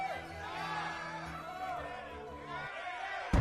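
A pirate crew cheers for Captain Bonnet, many voices shouting and whooping together in a dense, steady crowd roar that cuts off abruptly at the end.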